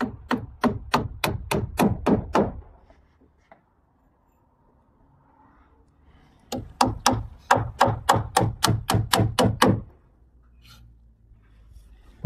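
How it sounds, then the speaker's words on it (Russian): Ruff nails being hammered into roof battens on a house under construction, in two sharp, evenly paced bursts of about ten blows each, close and loud, separated by a short quiet pause. "Обрешетку лучше крепить гершотными гвоздями для жесткости."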